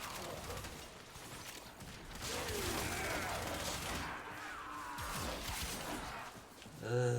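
A double-barrel shotgun in the game Warframe fires in a rapid, continuous stream without reload pauses, producing a dense roar of blasts and mechanical clatter that holds steady for several seconds.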